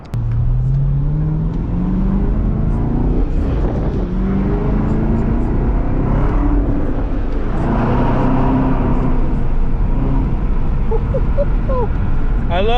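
A Chevelle with a manual transmission drives steadily, its engine droning and shifting pitch as it accelerates, with continuous road noise throughout and faint voices underneath.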